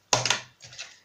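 Stapling folded paper for a paper Christmas tree craft: a sharp press and snap of the stapler, followed by a softer second crunch a moment later, close and alone.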